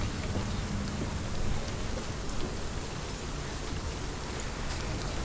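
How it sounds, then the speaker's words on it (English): Steady, dense rain falls in Hellblade: Senua's Sacrifice, a constant close hiss with no break and no voices. "Oh god, it started raining?"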